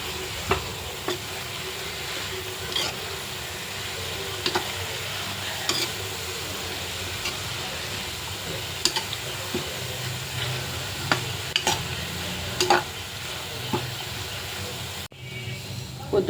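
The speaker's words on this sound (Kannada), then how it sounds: "ಒಂದು ಅರ್ಧ ಬಟ್ಲು ಸಾವಿಗೆ ಇಟ್ಟು ಮಾಡ್ತಾಯಿದ್ದೀನಿ." Vermicelli upma, made from about half a bowl of vermicelli, sizzles steadily in a pan on the stove while a spoon scrapes through it in regular stirring strokes, close and continuous.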